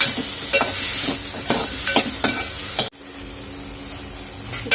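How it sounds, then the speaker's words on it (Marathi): Onions and tomatoes frying in oil in a pan, a loud steady sizzle with rhythmic stirring scrapes close by, the sizzle dropping abruptly near the end and continuing more softly. "आपण यामध्ये टोमॅटो घालून घेणार आहोत आणि त्यालाही छान असं परतून घ्यायचं आहे"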